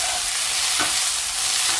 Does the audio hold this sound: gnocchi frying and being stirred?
yes